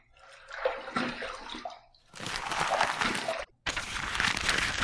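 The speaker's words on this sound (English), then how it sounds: "Let's rinse." Running water splashes while a face and razor are rinsed after a wet shave, in three close bursts of gushing and splashing, the later two fuller and louder, with brief pauses between.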